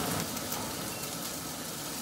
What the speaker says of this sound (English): Let me just turn on the fan here